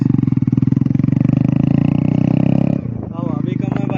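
A Hero Splendor BS6 motorcycle idles loudly up close, its exhaust thumping in a fast steady putter that briefly dips near the end, with people talking over it.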